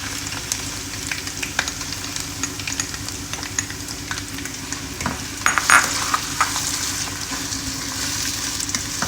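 Onions added to ginger and garlic in hot oil for a potato egg curry, sizzling and frying steadily while being stirred, with scraping stir strokes and no talking.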